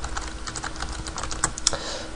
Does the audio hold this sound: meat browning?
no